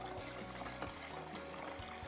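Water from an Alkaviva Elita Pure alkaline water filter pours into a jug in a steady, gentle trickle, quiet and continuous with no talk.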